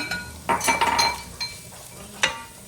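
Garlic going into onions sautéing in a pan over medium-low heat: metal spoon scrapes and clinks against the pan over a soft sizzle, with a couple of louder stirring knocks and a sharp clink near the end.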